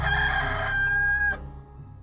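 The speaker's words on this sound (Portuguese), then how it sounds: "no mesmo instante cantou o galo" A rooster crows once, loud and close, with a drawn-out cock-a-doodle-doo that holds a high steady note before cutting off sharply, with no talk.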